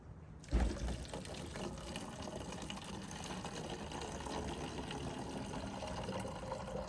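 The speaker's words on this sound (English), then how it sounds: "I'm gonna let that cool, and I'm gonna fill up my jug" Boiled water pours into a jug outdoors in a survival setting, opening with a brief splash and settling into a steady, faint continuous trickle and gurgle that runs to the end.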